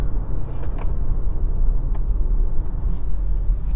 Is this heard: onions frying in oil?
no